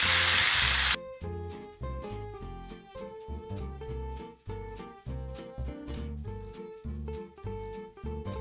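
Food sizzling in a frying pan gives a loud, dense hiss for about the first second. Tonal music then takes over for the rest.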